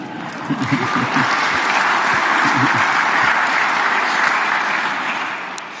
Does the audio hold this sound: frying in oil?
no